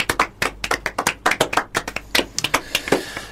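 A few people clap close by, producing sharp, distinct individual claps in an uneven rhythm, fairly loud, with no voices over them.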